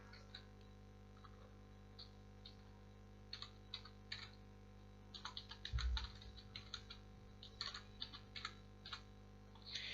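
Keys clack on a computer keyboard while text is entered in Microsoft Word, the faint, sparse clicks coming in short bursts over a steady low hum, with a brief thump midway.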